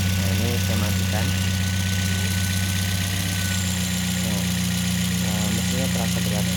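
A motorcycle engine idles with a steady low mechanical hum and faint ticking, heard close up, while someone talks over it.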